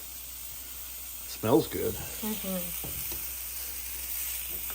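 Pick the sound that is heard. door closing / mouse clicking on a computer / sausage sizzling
sausage sizzling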